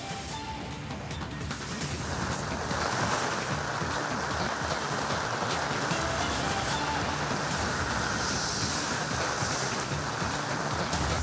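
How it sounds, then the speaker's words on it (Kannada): Heavy monsoon rain falls in Mangaluru, coastal Karnataka, as a dense, continuous broadband wash of water that swells after the first couple of seconds and stays steady and loud with no talk. "ಮಂಗಳೂರಿನಲ್ಲೂ ಕೂಡ ಬಹಳಷ್ಟು ಜೋರಾದಂತಹ ಮಳೆ"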